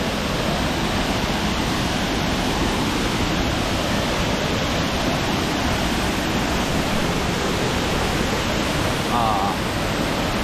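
A powerful waterfall roars steadily and loudly throughout, a dense, unbroken wash of rushing water close by.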